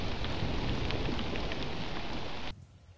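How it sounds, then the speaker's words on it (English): A hailstorm with rain pounds steadily in the open where an eagle family nests, a dense, loud roar of hitting hail and rain that cuts off abruptly near the end, leaving quiet. "Luckily, the hailstorm is over soon."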